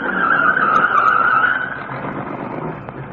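Car approaching in an old-time radio crime drama: a loud engine roar with squealing tires in the first half, fading to a steadier rumble, alone with no talking.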